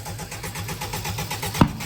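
A car engine on a freshly fitted Phoenix battery turns over in a steady, rhythmic cranking churn without catching, ending in a sharp clunk near the end.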